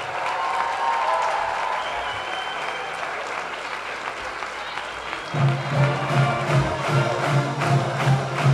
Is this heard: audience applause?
yes